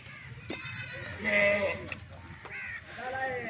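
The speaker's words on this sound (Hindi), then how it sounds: "ज़बरदस्त क्वालिटी के 3 बच्चों वाली बकरी मेरा भाई" A goat with three kids bleats on a farm, several short wavering bleats close by, mixed with someone talking.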